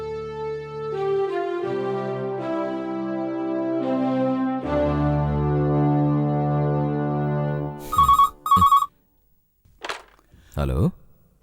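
A telephone rings with a sustained melodic tone that gives way to two sharp electronic bell bursts, then a short pause before people begin talking.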